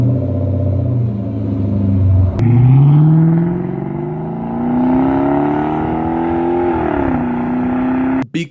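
Deep rumbling exhaust of a Dodge Magnum fitted with resonators and echo tips, idling low then swelling into a long rising rev that holds and eases back, close and loud.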